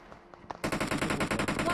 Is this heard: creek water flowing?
no